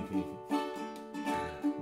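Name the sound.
ukulele island strum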